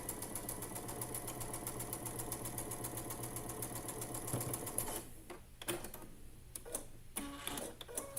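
A sewing machine chain-pieces small quilt block pieces, humming steadily at a rapid, even pace before stopping. Fabric rustles and a few clicks follow, all fairly quiet.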